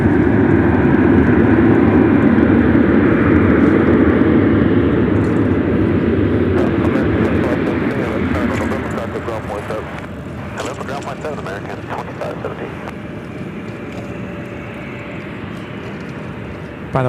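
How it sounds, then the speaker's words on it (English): An American Airlines A319 airliner arriving at LAX, its engines a loud broad roar that fades over several seconds as it passes, with people talking throughout. "This American A319 is coming in from Fort Myers, flight"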